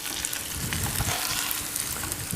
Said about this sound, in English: add the delicious salmon cakes. Share a nice low sizzle when you first put them in the pan